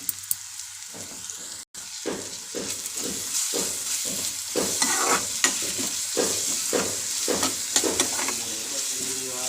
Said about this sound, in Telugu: అల్లం వెల్లుల్లి పేస్ట్ వేగుతుందండి.